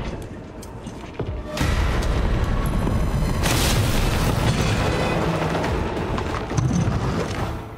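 A grenade detonates in the Resident Evil 3 video game: a sudden loud boom around the one-and-a-half-second mark, followed by a sustained, dense rumbling roar that continues to the end.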